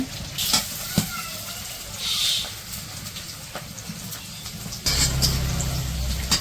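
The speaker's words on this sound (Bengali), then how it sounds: "পেঁয়াজ আর কাঁচামরিচ ভাইজা নিতেছে" Steady crackling sizzle of onions and green chilies frying in mustard oil, close by, with occasional clinks of a utensil stirring the pan.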